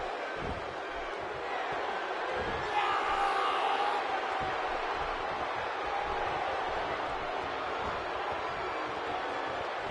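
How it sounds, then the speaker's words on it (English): Steady roaring crowd noise from a WWE 2K16 wrestling video game, a dense continuous wash of cheering that swells slightly midway and stays loud throughout. "The crowd is buzzing"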